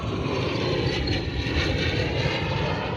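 Several fighter jets flying overhead, heard as a sustained, loud wash of jet-engine roar with no break and no talk.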